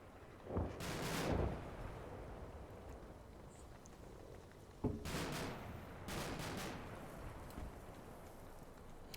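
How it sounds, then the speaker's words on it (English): Cannon rounds fire at a sniper position in the war game Combat Mission Black Sea, two distant rumbling blasts with long rolling tails over a steady background hum. "Hopefully good helping of cannon rounds should clear that sniper out of that position there."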